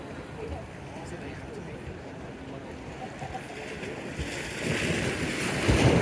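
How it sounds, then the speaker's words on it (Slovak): Roaring ocean surf close by on a shore near a Starship Super Heavy launch viewing spot, a steady broadband wash with wind buffeting the microphone, swelling louder toward the end, with no clear speech over it. "Tu vedľa nás búráca oceán."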